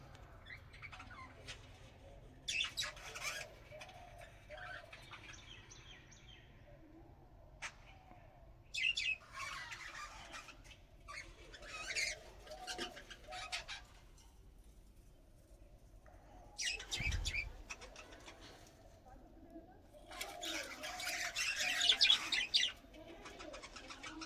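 Birds sitting on eggs inside a nest box, giving soft intermittent chirps, coos and brief squawks in scattered bursts over a quiet background, with faint rustling between calls.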